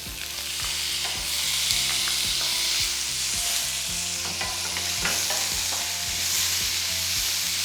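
Steady loud sizzling of tomato sautéing in a hot pan for vegetable masala, with repeated scraping stirs of a spoon running through the constant frying hiss, close up and without voices.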